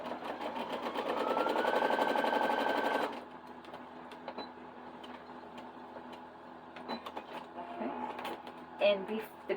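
A sewing machine sews a fabric piece corner to corner for a quilt block, running in a loud steady burst for about three seconds, then stopping while quieter handling clicks and soft rustles follow.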